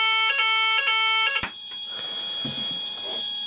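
Shed fire alarm system during a test: a loud electronic sounder pulses in a rapid beeping pattern, then cuts to a steady high tone carrying on alone.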